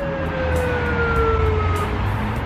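An emergency vehicle siren wails loudly as it passes, a steady falling tone over a rumble of traffic, with no voices.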